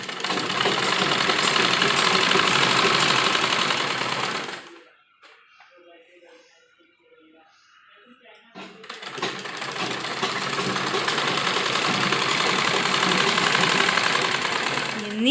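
Sewing machine running a straight stitch along a frock seam with half an inch of cloth allowance, in two long steady bursts separated by a quiet pause of a few seconds in the middle.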